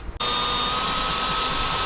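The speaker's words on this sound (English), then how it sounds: "Great jump to me drilling, right?" A power drill starts abruptly and whines steadily at high speed, close and loud, while enlarging a hole in a metal snare drum strainer.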